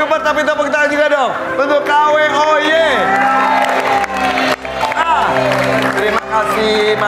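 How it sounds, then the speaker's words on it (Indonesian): Loud studio audience on a Family 100 game show breaks into applause with cheering, whoops and shouts, a host's voice and music mixed over the clapping for several seconds. "tapi tepuk tangan juga dong untuk KWO"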